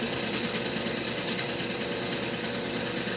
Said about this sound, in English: The drill press is engaged in the hole that's being cut